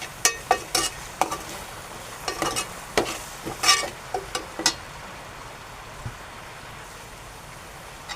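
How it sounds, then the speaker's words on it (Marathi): Onion sautéing in a pan with garlic masala, a soft steady sizzle broken by scattered clicks and scrapes of stirring, fairly quiet and close with no talking. "कांदा परतून घेऊ."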